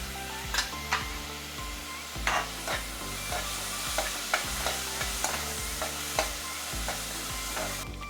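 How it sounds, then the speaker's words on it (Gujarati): Onions and cashews sautéing in a pan, with a bright steady sizzle broken by regular scraping strokes of a spoon stirring, alongside a low continuous hum. "કાંદા સતરાય છે તો થોડા કાજુ"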